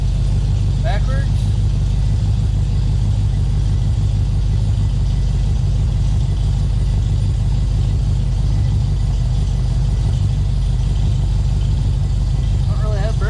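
A long-neglected Plymouth Scamp, first started in 16 years and short of brakes, runs with a loud, steady, rough engine drone throughout as it backs up, with faint squeaks near the start and end.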